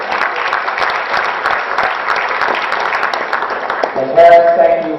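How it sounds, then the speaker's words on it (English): An audience at an evening school board meeting applauds for Eric, a student honored for straight A's, in a steady burst of clapping lasting several seconds before a voice starts speaking at the end. "Nice round of applause for Eric."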